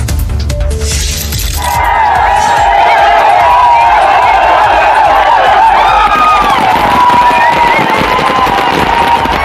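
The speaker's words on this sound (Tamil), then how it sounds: "தொழிலாளர்கள் தொடர்ச்சியாக பதினைந்து நிமிடங்கள் பட்டாசுகளை வெடித்தனர்" A loud, dense crackle of firecrackers set off by Samsung India factory workers bursts continuously while the crowd shouts and cheers, the noise swelling after a brief quieter start.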